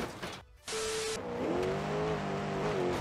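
A G-Wagon engine revs hard at full throttle, a steady, droning tone that climbs in pitch after a short hiss and stays loud through the rest of the clip.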